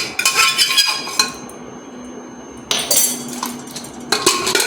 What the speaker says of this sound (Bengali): এটা সেদ্ধ হয়ে গেছে, এবার কুকার থেকে আমি ঢেলে নিচ্ছি।